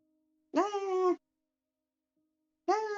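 A panicking cat gives two drawn-out, tonal meows about two seconds apart, fairly close and clear against an otherwise quiet background.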